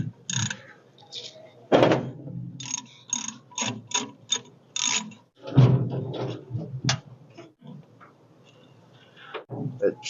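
Metal brake hose fitting being unscrewed on a 1946 International truck, heard as a run of close, irregular clicks and scrapes with a few louder knocks, mixed with quiet voices in a workshop.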